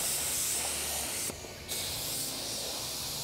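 Black paint is sprayed onto a 1932 Ford chassis in a light first coat, a steady close hiss running throughout with one short pause partway through before spraying resumes.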